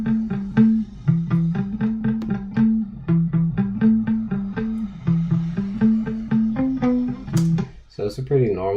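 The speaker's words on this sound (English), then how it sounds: "it's a pretty normal, just clean tone on my like first pickup on my Strat, and then just like a clean send on this amp" Clean electric guitar lines from the first pickup of a Strat through a clean amp send, playing a plucked, evenly paced melodic phrase of distinct notes, moderately loud, ending in a brief burst of other sound.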